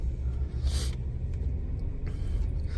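A Kia Opirus sedan with about 60,000 km on it drives toward a garage, its engine rumbling low and steady from inside the cabin, with a couple of brief hissing whooshes of passing air.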